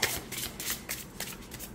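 A new, slightly stiff tarot card deck being shuffled overhand, giving rapid papery riffling bursts that come close and steady throughout, with no voices.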